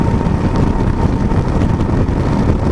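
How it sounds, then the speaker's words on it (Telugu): A Yezdi Adventure motorcycle engine drones steadily while riding at around 60, heard loud and close as a continuous low rumble mixed with heavy wind rush, with no talking. "సో ఇంజన్ సౌండ్ వినిపిస్తుంది"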